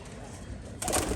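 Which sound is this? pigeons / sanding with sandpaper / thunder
pigeons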